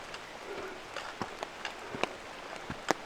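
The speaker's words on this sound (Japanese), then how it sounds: "ガスってる上に雨が降ってて、本当にうっそうとした感じです。" Rain falls on a foggy mountain hike in the Southern Alps, Hōō Sanzan, heard under an open umbrella as sparse, irregular soft taps and drips over a steady faint hiss.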